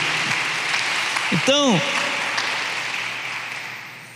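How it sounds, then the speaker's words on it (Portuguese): A church congregation applauds during a sermon, a sustained mass of clapping heard beneath a brief spoken word and a rising-falling vocal exclamation, tapering off gradually. "Vamos aplaudir Jesus, amém, queridos?"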